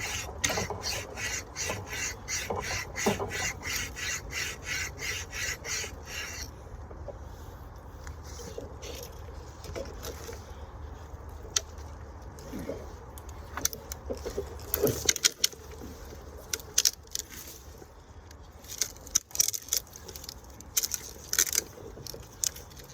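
A worn wire saw from a survival pocket kit cuts through wood in rapid back-and-forth rasping strokes up close, then slows to scattered scrapes and knocks.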